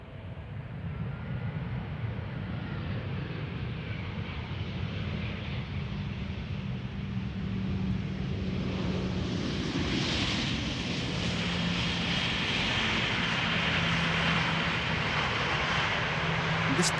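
A blue ITA Airways passenger jet arriving from Rome lands at Amsterdam Schiphol, its engines a steady broad roar that swells slightly partway through and carries on unbroken without speech.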